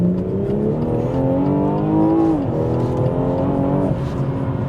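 A BMW M240i in Sport Plus launches hard under launch control with heavy wheel spin, its engine roaring loud and close with a steady rising howl and a brief dip as it shifts.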